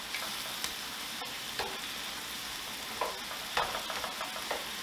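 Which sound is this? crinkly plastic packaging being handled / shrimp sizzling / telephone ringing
shrimp sizzling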